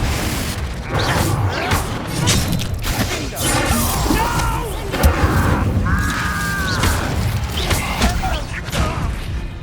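Confringo blasting spells explode in Hogwarts Legacy, loud booms and crashing impacts in quick succession over busy combat noise, with voices shouting in the middle of the fight.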